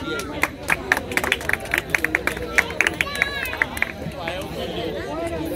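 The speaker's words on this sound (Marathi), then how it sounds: "टाळ्यांचा कडकडाट खूप कमी आहे तरी समजून घ्या" Applause at a traditional Konkan engagement ceremony in Chiplun, Khopad: bursts of hand clapping with sharp claps spread across the clip, mixed with crowd chatter and a voice speaking over the noise.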